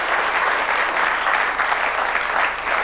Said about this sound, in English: Give this gentleman a round of applause as he comes out